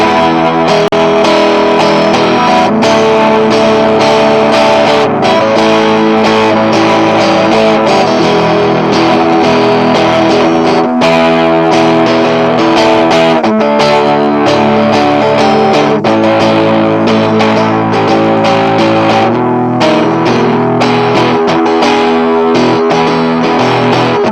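An electric guitar jams continuously through effects pedals, with heavy distortion and chorus giving a thick, saturated, sustained tone that stays loud and dense throughout, with no talking.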